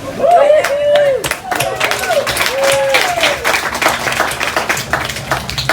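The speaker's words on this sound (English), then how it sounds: "we all applaud the fact that you've made it to this point, right, parents?" Audience applauding graduates at a 2020/2021 commencement ceremony, a loud sustained burst of clapping mixed with crowd noise and voices that carries on throughout.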